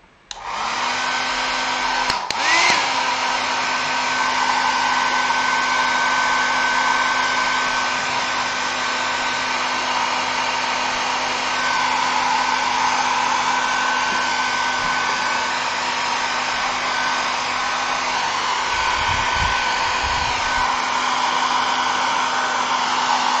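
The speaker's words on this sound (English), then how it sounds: "right now I'm just using my hair dryer" A hair dryer roars steadily and loudly at close range, a constant whirring blow after a brief click at the start, drying primer on a model plane.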